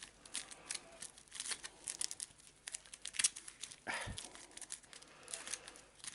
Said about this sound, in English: we'll just give them a quick shuffle on camera